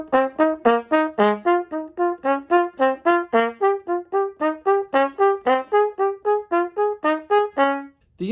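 Trumpet plays a steady melody of short repeated notes with softer accompaniment notes between them, a continuous bright brass line lasting several seconds with no talking.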